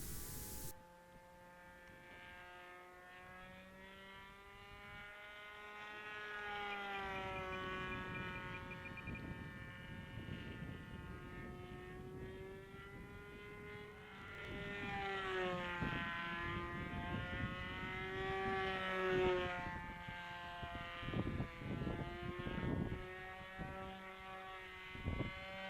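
A model airplane's small glow engine runs with a steady buzzing drone that wavers in pitch as the throttle changes, heard from a distance outdoors, with wind noise and no talking.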